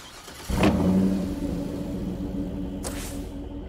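A car in State of Decay 2 starts moving with a sudden rev and then settles into a steady, mid-pitched engine drone as it drives off, loud and close, with no talking over it.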